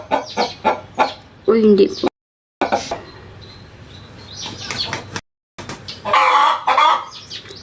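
Chickens cluck and squawk close by in short bursts while a person talks between them, with a couple of brief silent gaps and a louder flurry of clucking near the end.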